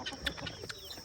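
Chickens on a small farm in Ghana cluck softly while pecking at feed scattered on the ground, with short, overlapping calls in a steady, busy murmur at close range.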